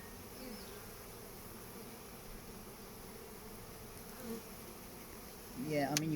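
Honeybees hum in a steady, low buzz close by during a swarm hive inspection, with a brief louder burst of buzzing near the end.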